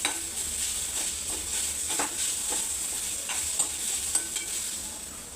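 Desiccated coconut sautéing in a pan for guava modak gives a steady, close sizzle, with a spoon scraping and stirring at irregular intervals throughout.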